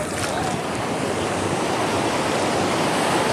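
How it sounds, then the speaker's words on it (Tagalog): Small, gentle ocean waves wash steadily onto Matabungkay beach in Batangas, a continuous near surf hiss with wind buffeting the microphone and no talking. "Mabuti ngayon yung alon ngayon, medyo malilit yung alon."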